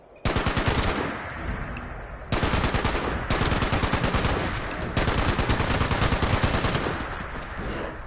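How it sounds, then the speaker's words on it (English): Rapid machine gun bursts in a Fallout video game, with several long, loud, tightly packed volleys of rattling shots separated by brief pauses, close and dominant with no speech over them. "My machine guns might take him"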